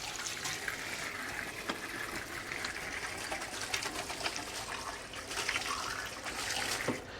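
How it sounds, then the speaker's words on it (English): Hands being washed under a running kitchen tap while making scones: a steady broadband rush of water with small splashes and trickles, close and continuous, with no talking. "I'm going to wash my hands because I've been over the floor a little bit"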